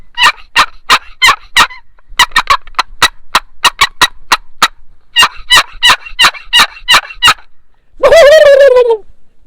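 A handmade turkey call imitates a gobbler, with quick bursts of sharp, clucking yelps in three rapid runs followed by a rolling gobble at the end, loud and close with no talking.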